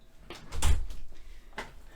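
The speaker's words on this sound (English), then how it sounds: "I think I will close the windows" A window slides shut with a rolling thud and rattle, followed by a softer knock as it settles, close and fairly loud.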